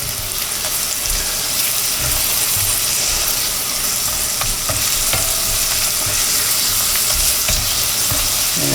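Bacon sizzles with onions in a soup pot for a loaded cauliflower soup. The frying crackles loudly and continuously, with some stirring scrapes and no talking.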